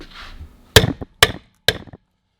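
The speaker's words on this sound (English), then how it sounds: "So a couple more smacks with the hammer." Three loud hammer blows land on a metal exhaust pipe at an even pace, each leaving a short ringing tail, with a faint hiss before the first.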